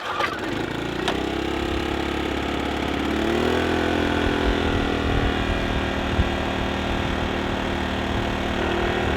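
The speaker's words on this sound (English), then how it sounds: "Nice thing about this generator is it weighs 19 pounds." A 19-pound portable generator runs steadily after a choke start, its small engine droning loud and continuous close by, with a short rough burst at the start before it settles into an even hum.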